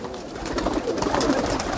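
Several high flyer pigeons in Jhalawar give low, continuous cooing, the overlapping calls forming a soft steady murmur close by, with faint ambient noise and no speech.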